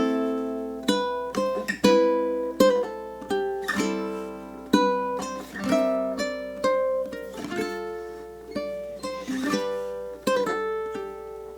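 A ukulele fingerpicking song plays through all six bars of its first theme: plucked notes and chords in a steady, gentle rhythm, each attack ringing and decaying, close and clear with no talking.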